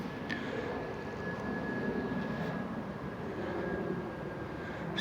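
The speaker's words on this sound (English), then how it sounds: "There is aeroplane flying overhead." An aeroplane flies overhead outdoors in a natural setting with flowers, giving a steady, even roar that holds for several seconds with no talking.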